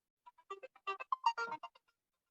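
A mobile phone ringtone plays during an indoor talk, a short melodic run of bright electronic notes that rises and falls over about two seconds. It is moderately faint and sounds alone, with no voices.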